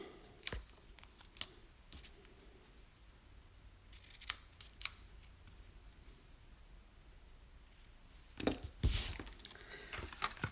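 Scissors trimming card stock give a few sharp, separate snips spread across a quiet crafting session, with a louder burst of paper handling near the end.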